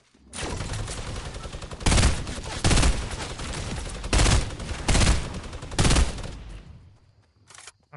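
Sustained minigun fire in a duo-squads shooter match, a long loud continuous stream of rounds punctuated by heavier surges, stopping abruptly near the end.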